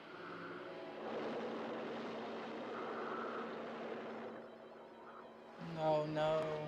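Helicopter noise from the monster film Yongary Monster From The Deep, a steady broadband rotor and engine rumble lasting several seconds, moderately loud, with people talking over it and a voice rising at the end.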